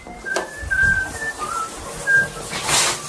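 A pet parrot gives a series of short, clear whistles, some rising and some level, spaced irregularly, close and fairly loud with a soft flutter of movement between them.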